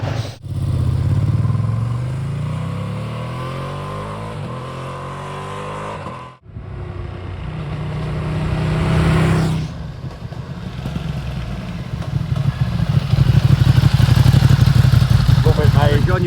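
A Ducati Streetfighter V2 motorcycle on its standard exhaust revs and pulls away nearby, with a crackling, popping clatter over the engine note. Voices can be heard talking around it.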